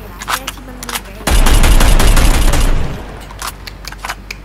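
Rapid automatic gunfire bursts out loudly in a Call of Duty match and rattles for about a second and a half, with voices talking before and after the burst.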